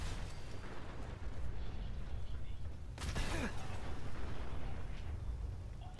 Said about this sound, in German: Deswegen lassen wir den gerade explodieren.